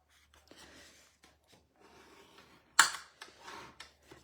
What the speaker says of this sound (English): I'm going to go ahead and fold and burnish.